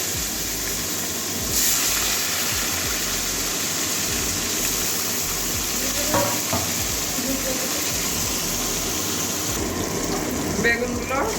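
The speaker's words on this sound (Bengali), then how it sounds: "বেগুনগুলো একটু ভেজে নেব, তেলের মধ্যে নামিয়ে নেব।" Eggplant pieces frying in hot oil with green chilies for a mustard eggplant and pabda fish curry, a steady broadband sizzle throughout with occasional stirring scrapes and a brief burst near the start.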